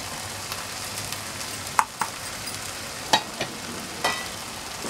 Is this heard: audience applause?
no